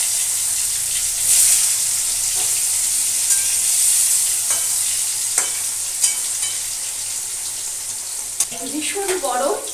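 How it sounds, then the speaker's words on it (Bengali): Turmeric-coated potatoes fry in hot oil in a karai for a mutton and potato curry. A loud, continuous sizzle with bright hiss is close by, broken by occasional stirring clinks and scrapes, with a brief sputter near the end. "এবার আগে আমি আলুগুলো ভেজে নিই।"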